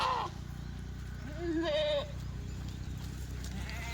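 Kathiawadi goats bleat in a few short, clear calls that rise over steady background farm noise, one after another within a couple of seconds, fairly close by.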